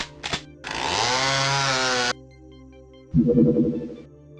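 Chainsaw from the video game Doom revving in a loud, sustained buzzing burst, then cutting out, followed by a shorter, rougher snarl of the motor after a brief pause.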